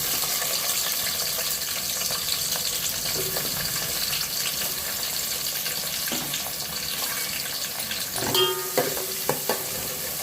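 Onions frying in hot oil with cinnamon, cloves and cardamom for a mutton biryani, a steady close sizzle throughout with occasional stirring scrapes near the end.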